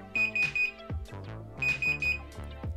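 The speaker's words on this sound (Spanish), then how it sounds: "va a sonar tres veces el buzzer, indicándonos que la puerta está abierta y la alarma no se puede armar" Home security alarm buzzer sounding three-beep warning patterns because a door is left open, clear electronic tones repeated twice in close succession, loud and alone without talk.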